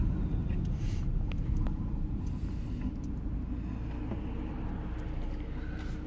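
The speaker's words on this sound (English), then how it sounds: "Good morning, Mr. Trash Truck." A garbage truck rumbles by outdoors on a cool fall morning, a steady loud low engine drone with faint clanks and hisses above it, no voices.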